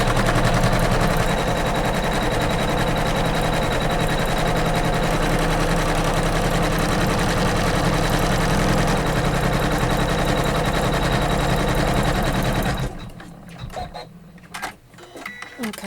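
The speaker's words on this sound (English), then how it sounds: "it's going to stitch that little tiny square down here" An embroidery sewing machine stitches a small square on a quilt block, a loud, steady rapid mechanical chatter running continuously up close before stopping abruptly, followed by a few faint handling noises.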